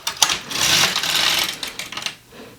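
A knitting machine carriage is pushed across the needle bed to knit a row of yarn, giving a loud close whirring, clattering rush that runs for about two seconds with small clicks at the start and end.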